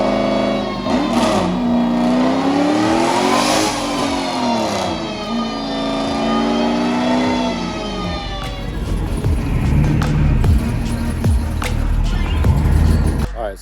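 A Toyota Supra with an aftermarket body kit revs on a Mustang dyno, its engine note climbing and falling in repeated sweeps, loud and close, with people talking over it.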